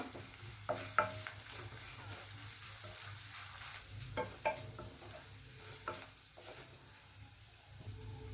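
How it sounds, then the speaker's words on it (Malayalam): Chopped chilli, garlic and curry leaves sautéing in a pan for papaya thoran, with a faint, steady sizzle and a few scattered stirring scrapes and clinks close by. "മുളക് അരിഞ്ഞത്, വെളുത്തുള്ളി അരിഞ്ഞത്, കറിവേപ്പ് ഒന്ന് വഴറ്റുക."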